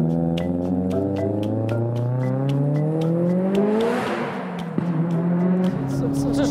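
A 700-horsepower Evo accelerating, its engine note climbing steadily through the gears with a rising whine and a shift, heard from inside the car with intermittent speech over it.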